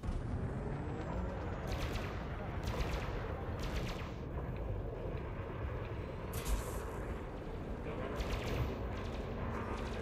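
Ship weapons fire during a space battle in Elite Dangerous, sounding as repeated sharp bursts of shots at irregular intervals over a steady rumbling engine drone, moderately loud and close.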